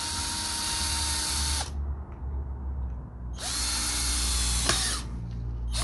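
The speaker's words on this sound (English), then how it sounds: "We want to take a drill and drill a hole in it" A power drill bores a hole in a bracket inside a Suzuki Swift ZC31S car interior, whining in two long, loud bursts separated by a short pause.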